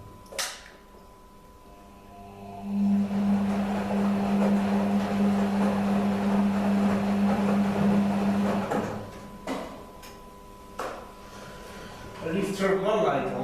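A Beko washing machine rinsing with a suds lock gives a steady mid-loud hum and churning drone for several seconds, framed by clicks and knocks and a brief faint voice.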